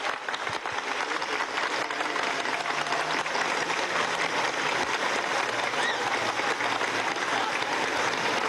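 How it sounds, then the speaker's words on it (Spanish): A large crowd gives sustained, dense applause at the unveiling of a monument to Doctor José Gregorio Hernández in a town plaza, the clapping loud and steady throughout without talk. "vamos a dar un fuerte aplauso a esta imagen que se devela."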